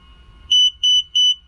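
Three loud, evenly spaced electronic beeps, each lasting a fraction of a second, come from a Tesla Model X electric frunk actuator controller. They sound piercing and close against a quiet background.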